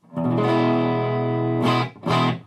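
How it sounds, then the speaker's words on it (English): A clean electric guitar chord rings out through an amp, sustaining for about a second and a half, then two shorter strummed chords follow. "we're going to play a clean tone, which is just my amp tone"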